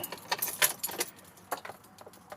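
Metal keys jangle and clink in several quick bursts during a car oil change, close and crisp with brief pauses between shakes.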